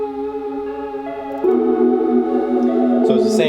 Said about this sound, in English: I put it through a thing called gross beat that kind of slowed it down to half speed.